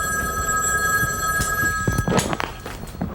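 A telephone rings on a call-in show set in a home basement studio, with tonal ring partials running steadily through the clip, then clattery handling noises and bursts of activity near the end.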